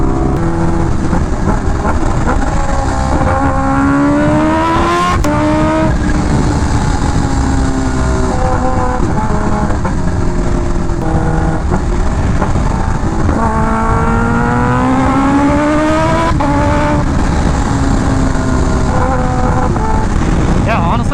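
Engine of a motorcycle in traffic revving and accelerating loudly, pitch sweeping up through the gears several times and dropping between pulls, close and continuous throughout.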